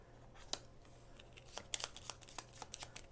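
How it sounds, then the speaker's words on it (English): A deck of cards is shuffled during a solo board game, giving a run of crisp riffling and snapping bursts with quieter rustling between them, close and clear with no talk. "And then we're going to shuffle up this deck."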